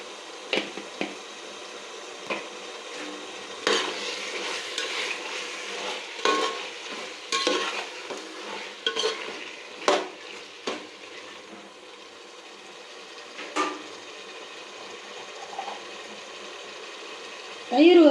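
A spoon scrapes and clacks through a pan of frying masala with turmeric for chicken biryani, the irregular stirring strokes sitting over a soft, steady sizzle close to the listener.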